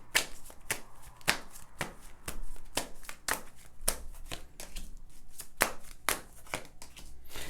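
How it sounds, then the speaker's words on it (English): Tarot cards shuffled by hand in a steady run of crisp riffling bursts, each snap sharp and close, repeating roughly every half second with no talking. "Now I'm going to shuffle these cards"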